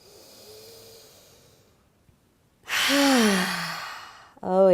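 A deep cleansing breath during a yoga flow: a loud, broad inhale through the nose followed by a long breathy exhale out the open mouth, close and alone after a quiet pause.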